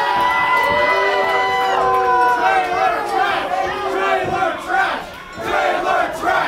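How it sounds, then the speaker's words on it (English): A packed wrestling crowd roars and cheers for a wrestler, a loud, sustained wall of shouting voices with rising and falling whoops and no clear speech. "You hear when they cheer for me?"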